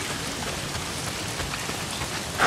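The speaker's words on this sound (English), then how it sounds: "Why is it always raining?" Steady rain pours in the open world of the video game Days Gone, a dense, even hiss of drops on surfaces with no voices, swelling slightly louder at the very end.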